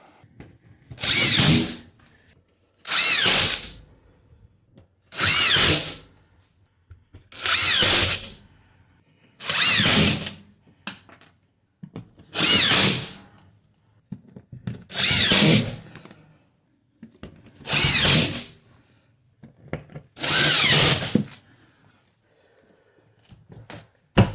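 A power drill drives screws into new drywall panels in about ten separate loud bursts of whirring, each lasting a second or two, with short quiet gaps between them and no talking.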